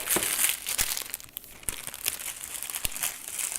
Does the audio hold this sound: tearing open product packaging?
yes